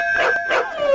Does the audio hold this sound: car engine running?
no